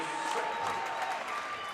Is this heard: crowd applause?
yes